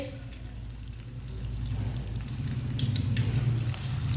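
Cabbage and potato pakoras fry in hot oil with a continuous crackling sizzle that grows slightly louder over a few seconds, close up and with no talking.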